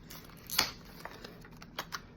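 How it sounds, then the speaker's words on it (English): A sealed plastic package for a Caldwell Pic Rail Adapter being opened, a crisp crinkle near the start followed by a few sparse plastic clicks and rustles, close and fairly quiet, no talking. "I'm gonna start by opening the package."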